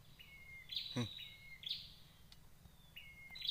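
Prinia birds at their nest give thin, high chirps in short repeated bursts over faint background noise, fairly quiet and somewhat distant.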